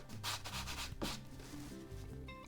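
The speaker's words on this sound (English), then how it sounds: "Give it a bit of a rub over" Rubbing over a vinyl transfer pressed onto a piece of wall art, heard as close, soft rasping strokes in a few quick bursts over a faint musical background.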